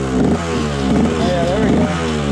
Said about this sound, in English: Electric start. It's gonna fire right up.